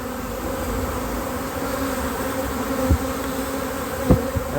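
Honeybees hum in a steady, dense drone from an open hive during a colony inspection, continuous and close, with a couple of brief louder passes near the end.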